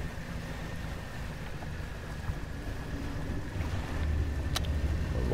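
A small fishing boat moving across open water in the video game Dredge, a steady low engine hum with wind and lapping waves, continuous and fairly quiet, with a brief high chime near the end.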